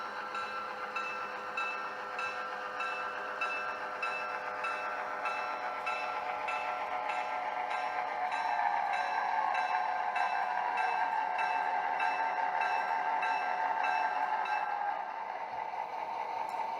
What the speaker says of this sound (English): our GP7 backs up and hooks onto the train.